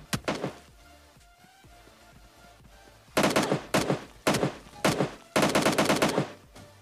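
Uzi fire in PUBG Mobile Lite comes as loud, sharp bursts of rapid shots, one early volley followed by a lull and then several clustered bursts in quick succession.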